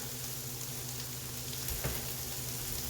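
Vegetables sauté in a pan with a steady, close sizzle, a faint clink or stir near the middle, and no voices.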